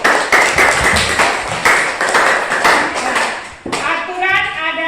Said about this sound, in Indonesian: tepuk tangan untuk Feby.